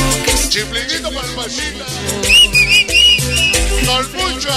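A shrill whistle effect rises over loud, pounding cumbia-style music at a sonido dance in San Francisco Totimehuacan, warbling in several bursts near the middle while the bass thumps steadily underneath.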